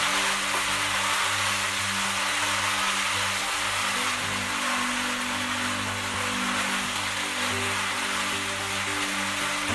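Vegetables sauté with garlic in a pan over medium heat, a steady, dense sizzle that runs evenly throughout with no pauses and a faint low hum beneath it.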